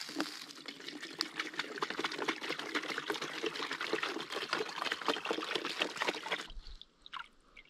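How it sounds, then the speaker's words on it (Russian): River water poured in a wild forest camp, a continuous close splashing trickle that runs steadily for several seconds and then stops, leaving faint quiet afterward with no talk. "Нальем воды."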